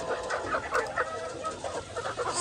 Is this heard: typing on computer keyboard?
no